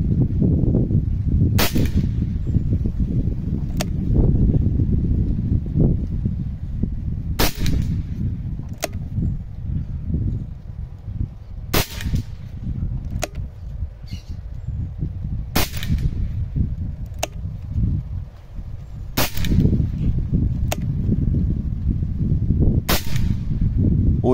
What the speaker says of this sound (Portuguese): Oito disparos ali, galera.